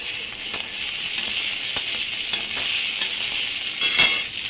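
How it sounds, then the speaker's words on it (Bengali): Soaked flattened rice (chire) stirred in a hot pan for a healthy Bengali breakfast, giving a steady sizzling hiss with soft scraping strokes at irregular intervals, close and continuous throughout. "1 মিনিট নাড়াচাড়া করে নেবো যাতে চিড়ের কাঁচা ভাবটা চলে যায়"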